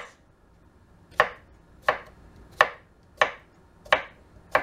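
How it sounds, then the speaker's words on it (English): A knife cutting small scrubbed squash into little slices on a board: six crisp, evenly spaced chopping thuds, close and clear, in otherwise quiet surroundings. "all I'm doing is just cutting them in little slices"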